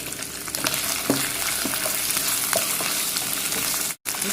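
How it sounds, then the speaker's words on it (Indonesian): Chicken pieces fry in a hot wok with a loud, bright, continuous sizzle, punctuated by a few faint stirring clicks and a brief dropout near the end. "Nah, ini ayam saya masukin."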